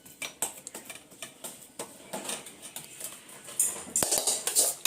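A spoon scrapes and taps against a ghee-greased steel dish while spreading sukhdi, giving a series of close, uneven metallic scrapes and clinks that grow busier toward the end.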